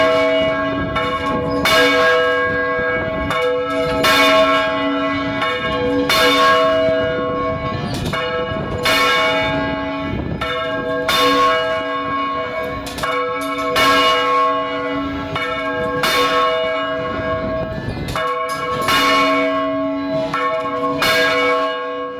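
Bronze church bells in Ouro Preto peal loudly and repeatedly, each strike sustaining a rich ringing tone, in a steady irregular sequence with no voices.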